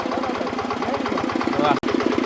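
A farm micro tractor, smaller than a mini tractor, idles close by with a steady, rapid chugging beat of engine pulses.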